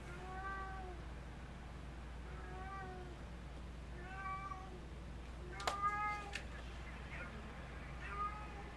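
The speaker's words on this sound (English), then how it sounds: "My cat is meowing in the background." A pet cat meows repeatedly indoors, roughly five drawn-out calls spaced across the stretch, moderately loud against a steady low hum, with a couple of sharper knocks near the middle.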